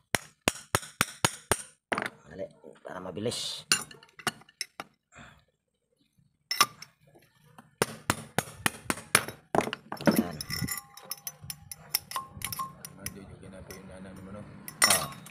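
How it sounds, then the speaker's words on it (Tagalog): Sharp metallic hammer strikes on a metal electric fan motor rotor ring out in fast bursts, with pauses and some scraping between them, while a person speaks briefly. "Gamit tayong martilyo."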